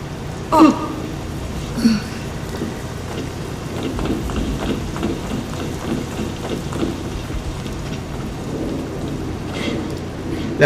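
Rain and thunder in the video game Remember Me: a steady, heavy downpour with two sharp thunder cracks early on, then continuous rainfall with no talking.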